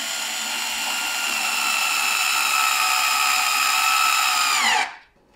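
A power drill drives screws into a SNOO bassinet frame with a steady high whine that holds for several seconds, then winds down and stops abruptly.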